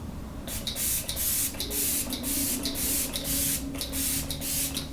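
Morphe setting spray misted from a fine non-aerosol pump bottle, giving about seven short, crisp hissing bursts in an uneven rhythm, close and clear with no talking.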